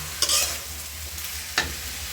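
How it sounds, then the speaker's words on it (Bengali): Potatoes and onions sizzle in hot oil with a steady hiss, broken by two sharp scraping stirs of a spatula in a pan, close by. "আলুর সাথে পেঁয়াজগুলোকে ভেজে নেব।"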